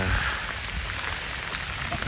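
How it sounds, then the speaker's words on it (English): Steady rain falls at Wat Sri Chum, a Buddhist temple in Sukhothai, Thailand, a continuous close hiss with a low rumble beneath it and no clear voices. "it started raining"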